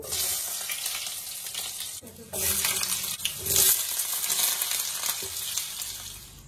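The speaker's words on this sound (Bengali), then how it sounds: "আমি বাকি সবজিগুলো ভেজে নেব।" Vegetables frying in hot oil for Bengali shukto with bitter gourd and potato, a loud continuous sizzle that jumps in intensity as more pieces go in and are stirred, with a few clinks of the utensil.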